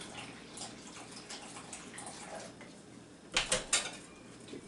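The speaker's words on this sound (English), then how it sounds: "Dump your pineapple juice in there, just a little dab first." Pineapple juice pours into a bowl for a beef jerky marinade, a soft liquid splash over room noise. A few quick, close splashes and clinks follow near the end.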